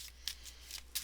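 Tarot cards are shuffled in a few quick, crisp riffling bursts, close and soft, with no talking.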